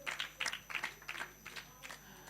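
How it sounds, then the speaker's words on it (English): A small audience at a conference breakout session applauds a speaker, steady quick clapping from a handful of people that thins out and fades toward the end. "a round of applause for Mr. Michael again."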